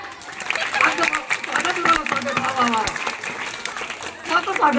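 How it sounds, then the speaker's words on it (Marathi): Audience at a Khandeshi gondhal ceremony claps along in a busy, uneven patter, mixed with crowd chatter and a voice speaking over it. "वाजवा टाळ्या"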